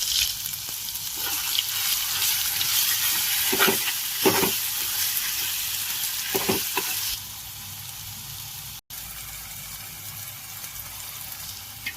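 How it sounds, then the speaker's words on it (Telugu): Ginger, garlic and green chilli paste frying in hot oil in a pan, a loud steady hiss and sizzle with a few stirring scrapes, settling to a quieter sizzle after a pause. "ఇప్పుడు మనం ప్యాన్లో ఆయిల్ యాడ్ చేసుకుని అల్లం, వెల్లుల్లి, పచ్చిమిరకాయల పేస్ట్ని మనం ఆయిల్లో ఫ్రై చేసుకోవాలి."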